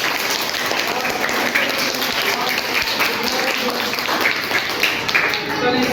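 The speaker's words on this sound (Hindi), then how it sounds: "एक बार फिर से ताली बजाएं।" Schoolchildren applaud together in a classroom, a steady, dense clatter of many small hands lasting the whole stretch with no break.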